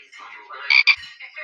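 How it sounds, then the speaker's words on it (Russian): A frog gives a short burst of raspy croaking, two louder pulses in the middle of a rattling call, close and alone. "Лягушка."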